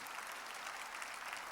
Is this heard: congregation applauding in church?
yes